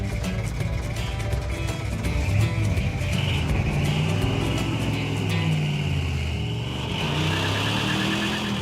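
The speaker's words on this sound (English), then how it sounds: "It sounds nasty with that thumper cam. The exhaust sounds pretty good too." A Chevrolet El Camino V8 with a thumper cam idles and revs through its exhaust, a loud, close, lumpy rumble that keeps up throughout with a rising rev near the middle, and no voices.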